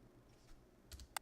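Faint keyboard key presses from The Stanley Parable, a few soft quick clicks close together, with a couple of sharper taps at the end.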